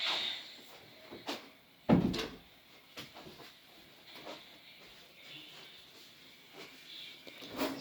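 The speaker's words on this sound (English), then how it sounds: "I'm going to shut the door" A single door closes with a solid thump at close range indoors, followed by quieter knocks and shuffling in a still room.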